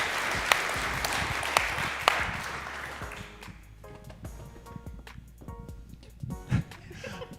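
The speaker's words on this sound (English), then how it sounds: "So a round of applause for Madison." Applause from a live audience, a few sharp loud claps standing out over a dense clapping crowd for about three seconds, then thinning into scattered faint claps and background noise.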